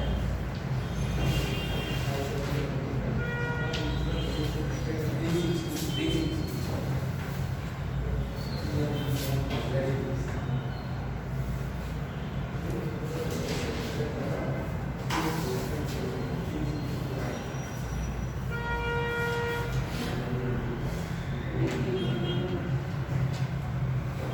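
A train passes a railway crossing, its steady loud rumble of wagons running the whole time, with several tonal horn or wheel-squeal blasts rising at intervals over the clatter.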